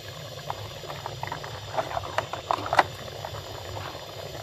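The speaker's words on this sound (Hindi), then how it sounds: "ये देखें 1 घंटा हो गया इसको पकते हुए।" Ojri (tripe) simmering in a pot of spiced liquid, a soft continuous bubbling with occasional louder pops and gurgles, close and steady throughout with no talking.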